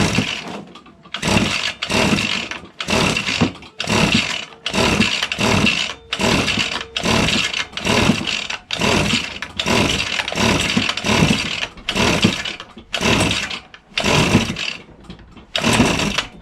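A Poulan Pro BVM200FE gas leaf blower engine, missing its carburetor and fed a shot of spray, coughs to life in repeated short, loud bursts of two-stroke buzzing, each roughly a second long, broken by brief near-silent gaps.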